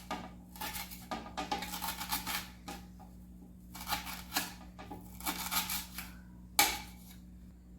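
A knife chops fresh coriander leaves finely on a board in quick bursts of rapid taps, with short pauses between the bursts and a steady low hum behind them.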